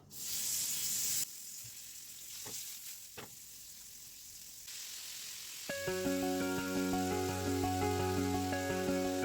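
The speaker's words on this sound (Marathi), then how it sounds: "पनीर आपलं शॅलो फ्राय झालेलं आहे" Paneer pieces seasoned with salt, turmeric and chilli powder shallow fry in a pan, giving a continuous close hissing sizzle with a couple of faint taps; toward the end, melodic background music plays over the frying.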